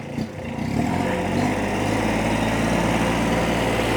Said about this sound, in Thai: ตัดหญ้าให้ชมเลยครับ